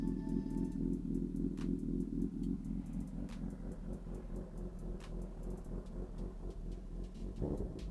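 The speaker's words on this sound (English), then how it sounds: "Let's go ahead and rev it up." A 2022 Honda CB1000R motorcycle with a Leovince exhaust, Black Widow header, idling and rising in a rev, a loud, near, low rumbling drone that swells and gets rougher toward the end.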